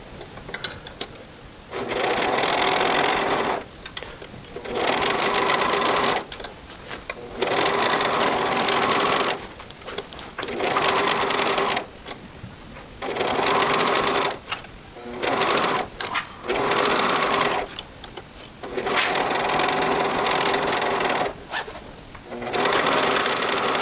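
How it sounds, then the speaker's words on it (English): A cover stitch sewing machine stitches fabric for a T-shirt, running in loud, steady mechanical bursts of a few seconds each, separated by short pauses, close up with no talking. "I'm going to go ahead and stitch, and then the main thing about the cover stitch machine is how you take the threads off"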